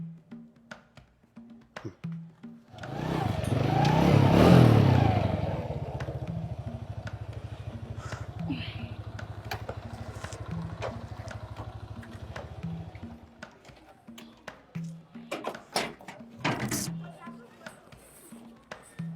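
A motorcycle engine starts up and idles with a steady rumble, then fades, while people talk nearby.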